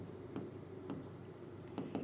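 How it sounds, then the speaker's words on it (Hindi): Pen writing out a maths definition on paper, a steady scratchy scrawl with a few sharper strokes, close and fairly quiet with no talking. "तो डेफिनेशन की बात करें तो डेफिनेशन देखिए कैसे लिखते हैं"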